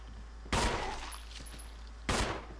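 Two sharp gunshots ring out in the video game Resident Evil HD Remaster, spaced about a second and a half apart, each a loud crack with a brief reverberant tail over a quiet background.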